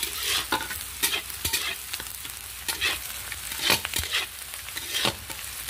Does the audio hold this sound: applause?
no